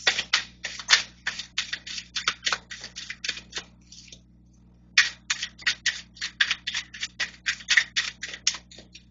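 A deck of tarot cards shuffled by hand, producing quick papery flutters in rapid rhythmic bursts, close and fairly crisp, with one brief pause midway and no talking.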